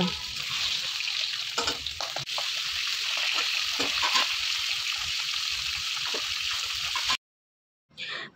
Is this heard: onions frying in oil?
yes